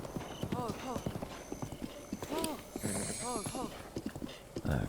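Rapid clip-clop hoofbeats of a galloping horse in Breath of the Wild, with short neighs over the rhythmic drumming, while someone talks over them.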